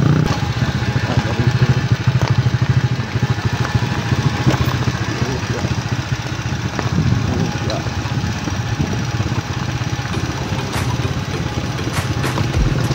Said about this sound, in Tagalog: Napakahirap ng daan, silang. Kaya naman daanin ng motor.